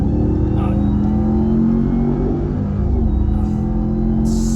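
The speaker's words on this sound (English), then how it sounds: "The factory exhaust is loud." A deep, loud engine roar builds steadily as a 2022 Ram TRX pickup accelerates on its factory exhaust, the exhaust rumbling and droning close by without pause.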